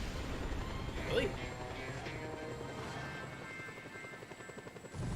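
A helicopter in Just Cause 2 drones loudly and steadily with a fast rotor chop throughout, while a voice talks over it.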